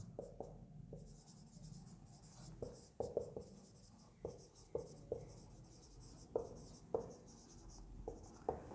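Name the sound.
writing an equation on a board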